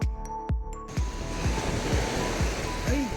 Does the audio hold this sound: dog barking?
no